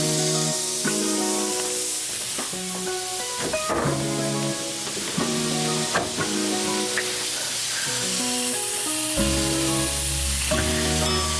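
A pound of seasoned ground beef browns in a pan with a loud, steady sizzle and hiss, broken by occasional stirring scrapes, close and continuous.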